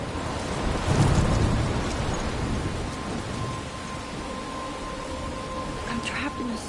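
Stormy weather in the video game Life is Strange, with a steady wash of rain and low rumbling thunder swelling near the start, then a continuous downpour hiss with faint higher cries and tones over it.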